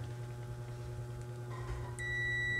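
An electrical multimeter tester beeps while probing a capacitor from an induction cooker under repair, a steady high tone that starts partway through and holds to the end over low electrical hum.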